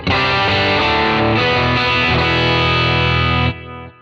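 Electric guitar chords on the bridge pickup through an overdrive pedal into a 1967 Fender Deluxe Reverb amp model ring out loud and thick with a bright, biting edge, several strums sustaining before cutting off near the end.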